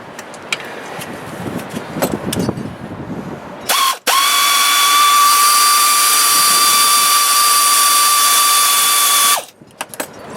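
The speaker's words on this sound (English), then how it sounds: "Now I can use the air ratchet to go the rest of the way." Air ratchet loosening a wheel hub bolt on a 2001 Buick LeSabre, a loud, steady high-pitched pneumatic whine lasting about five seconds, preceded by clanking and shuffling.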